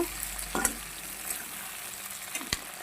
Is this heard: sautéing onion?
yes